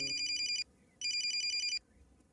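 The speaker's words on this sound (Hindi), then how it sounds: "फोन आ रहा है" A telephone rings in two electronic trilling bursts separated by a short pause, clear and moderately close with a quiet room behind.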